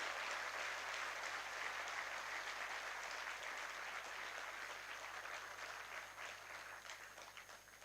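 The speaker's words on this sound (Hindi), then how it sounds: "जोरदार ताली बजा करके हम इनका धन्यवाद करें" An audience claps steadily and loudly at the unveiling ceremony for a statue of Maharaja Agrasen in Hisar, Haryana. The dense applause carries on for several seconds and slowly tapers off near the end.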